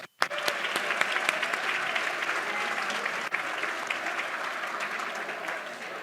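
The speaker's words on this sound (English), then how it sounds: "round of applause for Susan" An audience at a hospitality business conference breaks into sustained, dense applause for a winner called on stage, steady and fairly close after a brief silent gap at the start.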